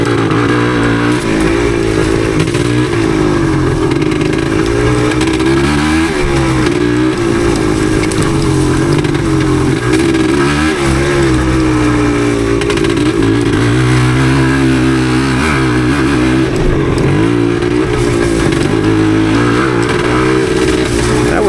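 A heavy 1977 Yamaha DT250 two-stroke motorcycle rides off-road through the woods, its engine droning loud and steady throughout with rising and falling revs as it shifts and works over the trail.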